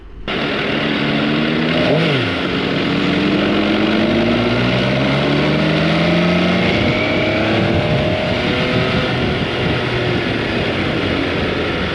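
A 2024 MV Agusta motorcycle engine runs loud and close, with rising and falling pitch sweeps as it revs and accelerates through gears. It holds a continuous, dense roar for the whole stretch with no talk.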